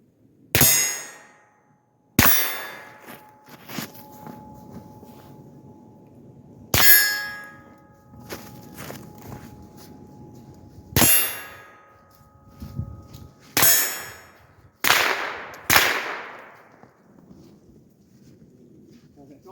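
Rifle fire at close-quarters targets with a 5-25x56 scope: about eight sharp, loud reports spaced irregularly, several followed by ringing metallic clangs from steel targets, with quiet gaps between.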